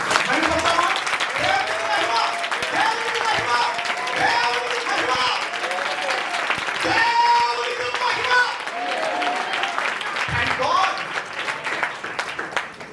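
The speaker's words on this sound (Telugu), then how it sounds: "గట్టిగా చప్పట్లు కొట్టి ప్రభువు" A congregation at a church Bible study convention claps together in a sustained burst of applause, with voices mixed in over the clapping.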